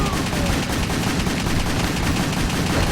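Rapid weapon fire in the video game WET, a dense continuous barrage of gunshots at steady high volume throughout.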